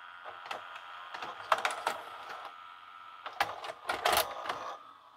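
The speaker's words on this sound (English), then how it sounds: "Now we can eject." An LG FC930W VHS VCR ejects a cassette, a series of quiet mechanical clicks and clacks in two bursts separated by a pause, close and faint with no talk.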